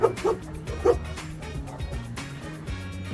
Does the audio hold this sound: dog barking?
yes